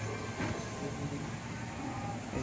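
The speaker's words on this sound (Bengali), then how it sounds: "এই জাস্ট অনেকক্ষণ আস্তে আস্তে আস্তে আস্তে চলে কানপুর সেন্ট্রালে ঢুকলো" A train slowly pulling into Kanpur Central station at night, a low steady rumble and rolling hum heard from on board, fairly quiet, with no one speaking.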